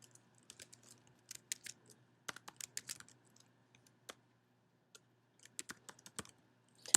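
Typing on a computer keyboard in a quiet room, faint scattered key clicks coming in short irregular runs with pauses between them.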